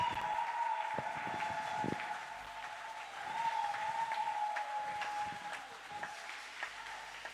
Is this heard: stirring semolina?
no